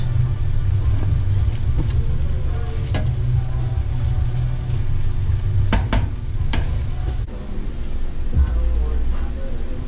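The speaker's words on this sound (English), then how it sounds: "let me drop the mushrooms first" Mushrooms dropped into a hot pan with melting fat for stuffed steak give a steady, loud sizzle and frying hiss throughout, with a few sharp clinks of utensils and no talk.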